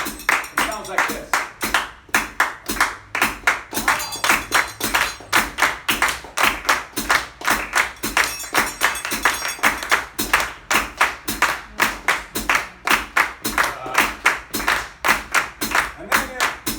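Hands clap a 16th-note samba rhythm in a music masterclass, sharp, evenly driven claps in a fast, steady repeating pattern with accented beats, close and loud throughout.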